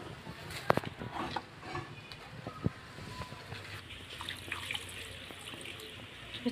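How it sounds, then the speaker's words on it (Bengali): Tap water runs into a kitchen sink while raw chicken is rinsed, a steady splashing wash with small knocks and clatters of handling throughout. "চিকেনটাকে এবার ধুয়ে নিই ভালো করে"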